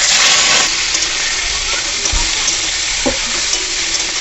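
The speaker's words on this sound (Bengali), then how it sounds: "সিদ্ধ করে রাখা মাশরুমগুলো একটু ভেজে নেব।" Boiled mushrooms fry in hot oil in a wok, giving a steady, loud broadband sizzle with a few brief stirring clunks and scrapes near the middle.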